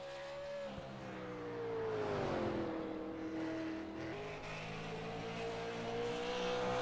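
A super late model race car runs a qualifying lap at Five Flags Speedway, its engine a loud, sustained roar that swells and shifts pitch as it powers through the turn and down the straight.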